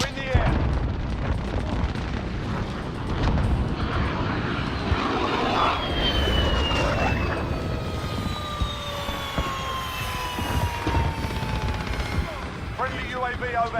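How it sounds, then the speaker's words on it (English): Enemy support helicopter in a first-person shooter video game passing overhead, a loud steady engine and rotor drone under busy gunfire and explosions, with a rising and falling whine as it flies past. "Enemy support helo in the air."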